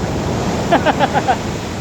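Strong ocean waves on Long Beach in Zambales make a steady, loud roaring wash with gusty wind, and a few short voiced sounds rise briefly in the middle.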